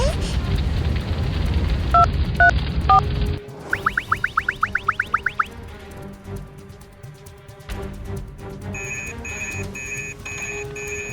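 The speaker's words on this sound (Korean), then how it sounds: "어서 119에 전화해" A telephone dials the emergency number 119 in a children's toy firefighter story: a quick run of short electronic keypad beeps, followed by ringing tones, with speech around them.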